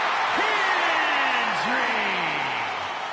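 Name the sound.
crowd cheering Joe Hendry's entrance in WWE 2K26 video game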